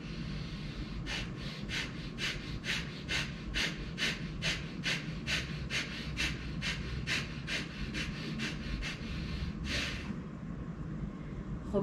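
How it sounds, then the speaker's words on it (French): Rapid forced breathing exercise with shoulder pumping: about twenty sharp, evenly spaced exhalations in quick succession, close and clear, ending with a longer breath and quiet. "C'était une respiration forcée"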